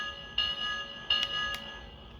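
A small electronic bell from an O scale Lionel LionChief model train set dings three times in quick succession, bright and ringing, over a faint background hum.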